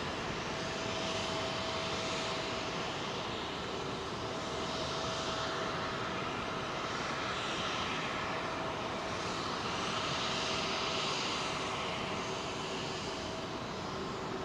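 A jet airliner arriving on wet runway 27L at Heathrow, heard as a steady, loud broadband roar with the hiss of spray that holds at the same level throughout, with no voices.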